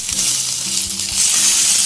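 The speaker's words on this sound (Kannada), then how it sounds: "ಇದನ್ನು ಚೆನ್ನಾಗಿ ಫ್ರೈ ಮಾಡ್ಕೊಳ್ಳಿ." Grated coconut and ginger-garlic paste fry in hot oil for a kurma gravy, giving a continuous, fairly loud close sizzle that holds steady throughout.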